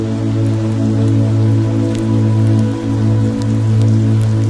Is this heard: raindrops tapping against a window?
yes